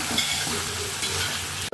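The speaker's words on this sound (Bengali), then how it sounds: "তখন ওটা ভাজা হচ্ছে মাংসটা," Chicken pieces salted and frying in a pan for a curry, a steady close sizzle with light stirring scrapes running through the whole stretch, no voices.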